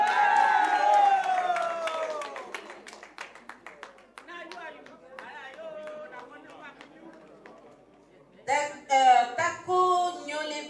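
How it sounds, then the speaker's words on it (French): Audience clapping for a donation at a fundraising event, a burst of scattered claps that thins out, then a livelier round of clapping and cheering near the end, mixed with voices and chatter. "Veuillez applaudir."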